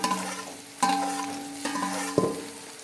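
Potatoes sautéed in a pan with garlic and onion, a light sizzle broken by three sharp stirring scrapes and knocks of a utensil at irregular intervals.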